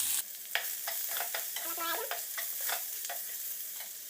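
Bay leaf and green chili fry in hot oil in a pan with a steady close sizzle, while a utensil scrapes and stirs in repeated strokes through the whole stretch.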